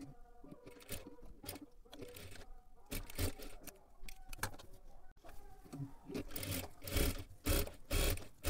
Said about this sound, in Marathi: आता इथे आपल्याला गळ्याला पूर्ण लेस लावून झालेली आहे आणि डबल शिलाई सुद्धा मारून घेतली